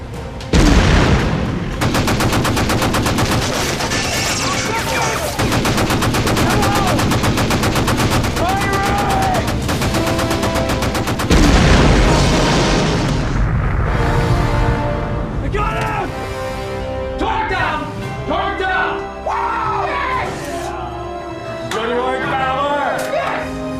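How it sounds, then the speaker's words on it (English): Heavy gunfire from a war film, with dense rapid machine-gun bursts and booming blasts that roll on for a long stretch, then fade into scattered shots under shouting voices. "Fire at will. Prepare to fire. Firing."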